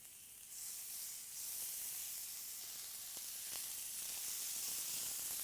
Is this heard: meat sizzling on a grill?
yes